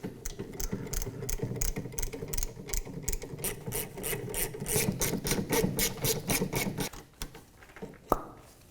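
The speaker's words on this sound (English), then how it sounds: "We're going to remove the caliper bolts here. We're going to do that with a 14mm socket." A breaker bar with a 14mm socket works on the rear caliper bolts of a 2007-2013 Mitsubishi Outlander, giving a long run of rapid, close ratcheting clicks that stop near the end with a single clank.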